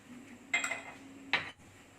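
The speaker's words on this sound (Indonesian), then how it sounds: "bubuk ngohyongnya kita tuangkan, kita aduk" A spoon stirs five-spice powder into a pot of water, giving two distinct metallic scrapes and clinks against the pot, close and moderately loud over a quiet room.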